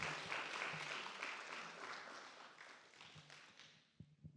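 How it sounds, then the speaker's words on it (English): An audience at a talk applauds in a broad wash of clapping that fades steadily over a few seconds, ending with a few scattered close taps, fairly quiet overall. "Please give another round of applause to Dennis Kratz."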